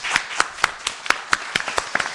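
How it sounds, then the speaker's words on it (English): A small number of people clap in a room at the close of a community college initiative launch panel, sparse individual claps in an uneven rhythm, moderately near and fairly quiet, with no talking. "Round of applause."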